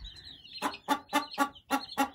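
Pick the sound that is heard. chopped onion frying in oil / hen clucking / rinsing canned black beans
hen clucking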